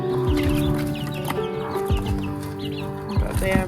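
Chickens clucking and calling in a farm coop during evening chores, several birds close by in a steady overlapping chatter with a brief louder squawk partway through.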